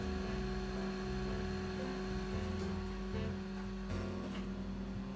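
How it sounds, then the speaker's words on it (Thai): A small internal cooling fan whirs inside a portable AC/DC camping car fridge, a continuous close hum and airy hiss that holds steady, with a faint shift in tone near the end. "แล้วก็มีเสียงพัดลมระบายความร้อนอยู่ด้านในนะครับได้ยินกันไหมเอ่ย"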